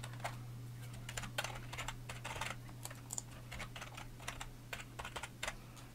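A password is typed on a computer keyboard in quick, irregular bursts of close, crisp key clicks over a faint steady electrical hum.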